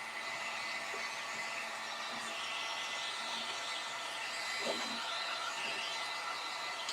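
A hair dryer blows in a steady, even whoosh, drying painted touch-ups on a wooden candy corn decoration; it runs continuously at close range with no talk.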